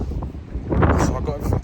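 Strong wind buffets the microphone in a steady roar, rising and gusting over the second half, with a voice faintly present underneath.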